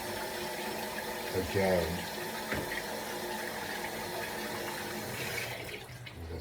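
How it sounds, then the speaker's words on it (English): Running water from a kitchen tap splashes while tomatoes are rinsed, a steady close gush and patter with a few brief clunks, under a voice speaking briefly. "Let me rinse this one more time."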